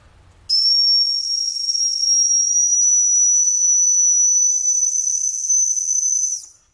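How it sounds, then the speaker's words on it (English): A dog whistle with an adjustable tube sounds one steady, piercing high tone, loud and close, holding for about six seconds before cutting off. "The manufacturer of this dog whistle says once you find the right frequency, depending on what kind of dog you have, you practice different frequencies"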